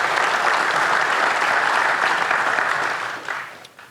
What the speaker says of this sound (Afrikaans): jy kan hande klap as jy wil.